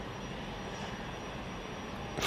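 An Embraer Praetor business jet at Manchester Airport gives off a low, steady engine rumble and whine heard from a distance, faint and unbroken, with a brief louder burst at the very end.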